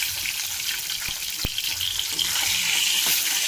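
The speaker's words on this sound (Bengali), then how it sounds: "মাছগুলো লাল লাল করে ভাজা হয়ে গেছে" Fish sizzle steadily in hot oil throughout, a dense bright frying hiss with a couple of sharp pops and a faint clink partway through; no voices.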